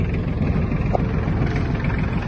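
An Iseki TG-253 Japanese mini tractor's engine runs with its throttle being opened, giving a close, steady low rumble throughout.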